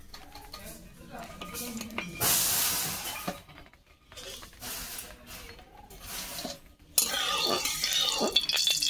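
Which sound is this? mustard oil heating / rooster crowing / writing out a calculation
mustard oil heating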